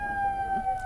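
A civil alarm siren sounded as a coronavirus awareness signal gives a steady, sustained electronic wail, held at an even pitch and moderate loudness for the whole brief moment, with no voices over it.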